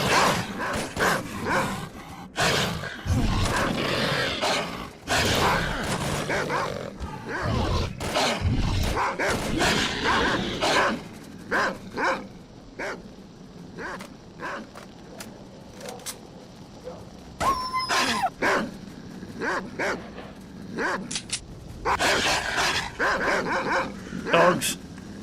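Dogs in S.T.A.L.K.E.R. Call of Pripyat bark and yip in repeated bursts throughout, mixed with game noise and a person talking over the action.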